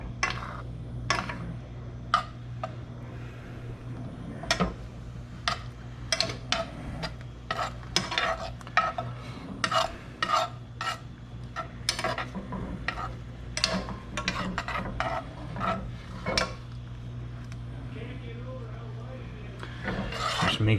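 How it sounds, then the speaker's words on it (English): Pheasant back and mushrooms being stirred in a pan, with repeated scraping, rasping strokes of a utensil over a steady low cooking hum, close and fairly even throughout. "Just make sure you're constantly stirring that so it's not burning."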